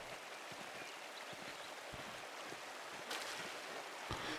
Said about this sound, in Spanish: La cascada debe originarse el deshielo.